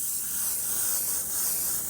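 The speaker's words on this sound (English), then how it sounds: "So sometimes you hear the air going, it's just air with no paint." An airbrush spraying paint, a steady, close, even hiss of compressed air and paint that holds without a break, with no voices.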